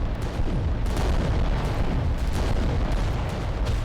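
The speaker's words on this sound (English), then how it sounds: "we'll go for the kill with the dual volcano cannons" Heavy, continuous booming fire from dual volcano cannons in the video game Adeptus Titanicus: Dominus rumbles without pause, dense low thuds layered into a loud, roaring barrage.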